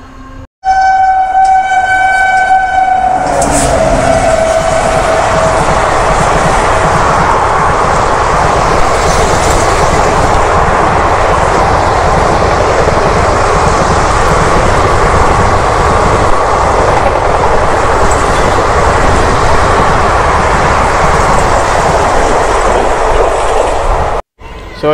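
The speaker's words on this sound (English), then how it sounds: "Our train is approaching na, ayan no." A train in India rolls into a station with a loud, steady rumble and rushing noise that fills nearly the whole stretch, after a few seconds of quieter background tones.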